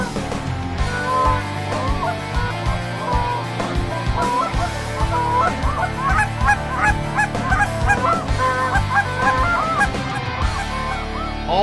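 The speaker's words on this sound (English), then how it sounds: "some of these calls that he's making at these geese when they're flying away and he gets them right back in our face" Canada geese honk loudly and continuously, overlapping one another, mixed with a hunter's goose calls that cut in as rapid, repeated honks and clucks; no one speaks.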